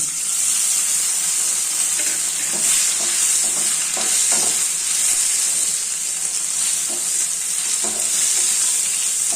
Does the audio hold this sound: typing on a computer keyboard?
no